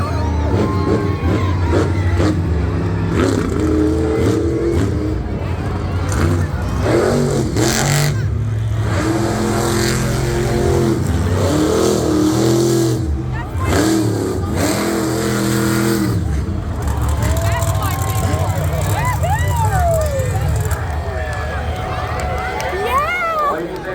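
Monster truck engines rev and roar in bursts at a show in Edmonton, with an announcer talking over the loud, continuous engine noise and crowd.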